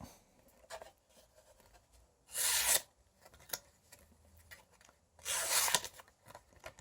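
A D2 steel folding knife slices through material in two distinct rasping strokes a few seconds apart, crisp and close, with faint handling noises between them.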